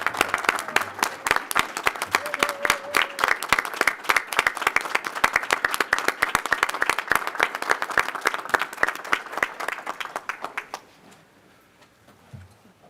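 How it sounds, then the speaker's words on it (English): A board of trustees meeting breaks into a round of applause for a departing colleague, dense clapping from many hands sustained for about ten seconds before quickly fading to room quiet. "How about a round of applause for Kathy?"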